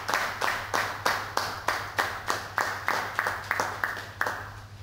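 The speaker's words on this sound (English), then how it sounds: "let's give them a wonderful round of applause" Audience at a Red Cross Nigeria gathering claps for volunteers and frontline humanitarian workers: a steady, evenly spaced run of about a dozen firm claps, close and unhurried, over a low constant hum.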